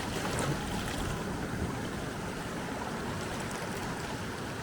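Sea water surges steadily up a rocky channel on the Cornwall coast, a loud, continuous broadband wash and roar that holds level throughout, with no voices.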